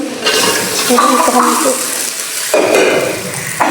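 Potato and eggplant pieces dropped into a pan of sizzling fried spice paste for a Bangladeshi fish curry, giving a loud close sizzle with stirring and utensil scrapes.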